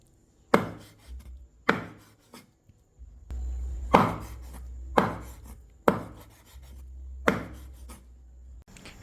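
Six sharp, loud knife chops through pork on a cutting board, spaced about a second apart, with faint scraping between strikes and no talking.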